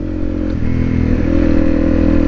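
Steady single-cylinder thrum of a Honda CRF250 Rally motorcycle engine, loud and close, holding an even idle with a slight rise partway through.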